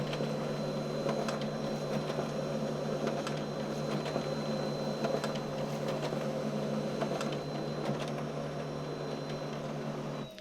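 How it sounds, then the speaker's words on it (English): A Brother MFC-L2740DW multifunction laser printer scanning a document and printing copies at about 30 pages per minute gives a steady mechanical whir and hum, close and even, with faint periodic clicks and no talking. "this actually scans the document, and then it's going to print it at the same speed"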